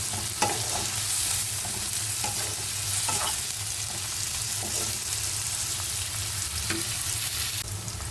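Onions fry in a pan while a spoon stirs them, with a steady sizzle broken by repeated scraping strokes and soft clinks, close and alone.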